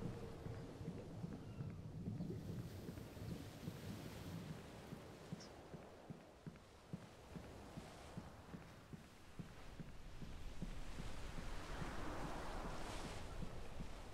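Ocean waves wash and rumble in the background of the video game Contrast, mixed with wind and low surf sounds at a soft, steady level with faint rhythmic thumps, no speech.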